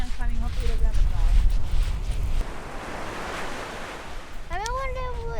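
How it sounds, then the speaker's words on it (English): Ocean waves roll and break in a steady hiss and wash on the shore of France's Cotentin Peninsula. Wind buffets the microphone, and people talk over the surf. "They don't like the waves."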